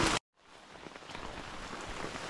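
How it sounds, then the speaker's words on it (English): Steady rain hisses all around, heard from under a shower curtain on a mountain hiking trail, after a brief cut at the start, with scattered drops tapping through the wash. "So, stuck in the rain under a shower curtain"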